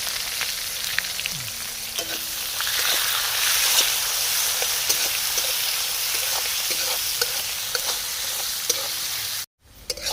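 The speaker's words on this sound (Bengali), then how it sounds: "পেঁয়াজ ব্রাউন ব্রাউন করে ভেজে নিয়েছি" Onions frying in a pan: a close, steady sizzle with occasional stirring clinks and scrapes, ending in a brief cut.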